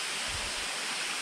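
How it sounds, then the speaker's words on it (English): Water from a waterfall in the Philippines falls into a pool, a steady, soft broadband rush that continues evenly for the whole moment, with no voices. "there's no noise except the water dripping down into the pool"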